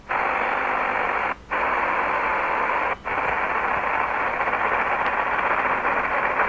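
Shortwave reception on a Tecsun PL-330 portable radio, a dense, steady hiss of static that carries a faint signal. Two short dropouts briefly hollow out the noise, with no talking over it.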